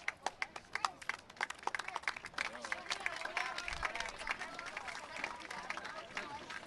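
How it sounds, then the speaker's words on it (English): Crowd at an Elmhurst men's soccer match against Lake Forest murmuring and clapping in scattered bursts from the stands as an injured player lies on the far side of the field, a moderate, uneven babble. "Crowd responding to the injured Elmhurst player on the far side of the field"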